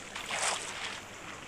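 Flowing water in the Minecraft video game, a steady rushing wash that swells briefly near the start and then settles into a continuous stream, heard alone.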